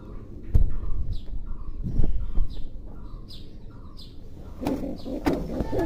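Pigeons in a coop give repeated short calls at a moderate distance, several spaced notes over a low background rumble, with a few knocks and thumps among them.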